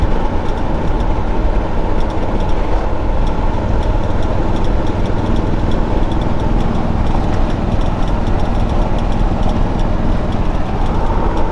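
A 1979 Chevy K10 truck with a Holley Sniper EFI engine runs steadily, a loud, dense rumble with constant low-end drone and no pauses for the whole stretch.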